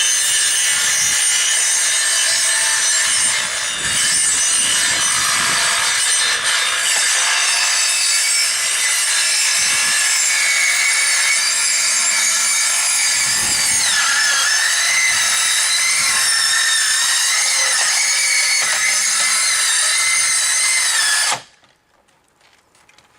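A power saw, set to the depth of the siding, cuts through siding over plywood in one long, loud, continuous run lasting about twenty seconds, with a slight shifting whine, then stops abruptly into near silence.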